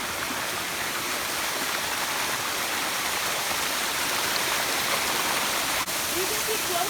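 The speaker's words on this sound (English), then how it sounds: "You can see closer, the waterfall's from there, but the main waterfall is all the way up there" Steady roar of a waterfall and flowing stream in San Antonio, loud and continuous throughout with no break.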